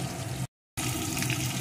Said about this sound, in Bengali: এখন মাছগুলোকে আমি এপিট ওপিট করে লাল লাল করে একটু ভেজে নেব।